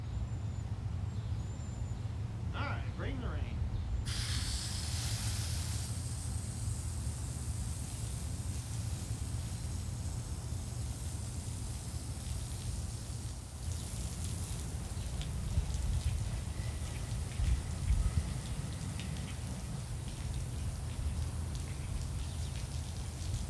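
A garden hose sprays water over a pop-up camper outdoors, a steady, close hiss of water striking its surfaces that holds from start to finish.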